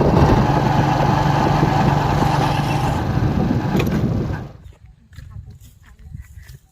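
A motorcycle engine drones steadily while riding, then cuts out, leaving quieter background noises.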